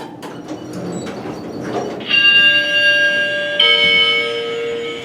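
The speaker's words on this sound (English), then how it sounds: "That's got a lower pitched chime." An older Schindler 3300 machine-room-less traction elevator gives a lower-pitched chime: after some soft rumbling and shuffling, two clear sustained electronic tones sound in succession and ring on loudly to the end.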